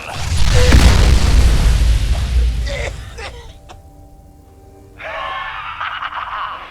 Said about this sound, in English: Who doesn't love a good explosion?